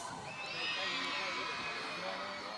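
Students of Sebastian House cheer loudly at an inter-house school athletic meet, a sustained crowd roar of shouting young voices that holds steady for a couple of seconds.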